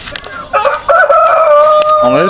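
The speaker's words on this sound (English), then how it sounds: "My baby chicks that we're born here on the farm, they're getting pretty big." Chickens in a split farm coop holding barred rocks and Brahmas: a loud, close rooster crow with a long drawn-out call, preceded by short clucks and followed by another rising crow.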